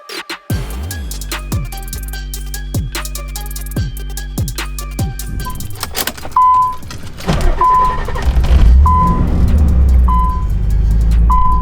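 A Nissan 300ZX (Z32) fitted with new coilovers starts up and pulls away on a test drive; the engine note rises and steadies, with a repeating electronic chime early on, then a close, continuous road and engine rumble.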